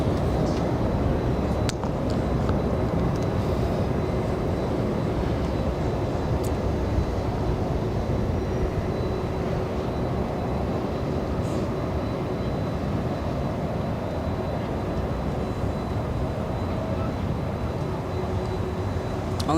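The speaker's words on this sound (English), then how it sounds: "Here it is, the big 767 heading north." A Delta Boeing 767-400 passes at LAX, its jet roar a steady broad rumble that holds loud and even throughout, heard from a distance with no voices.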